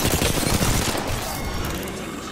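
Rapid bursts of gunfire in the shooter game Apex Legends crackle loud and close, a dense fusillade that thins out after the first second into a quieter rattling tail.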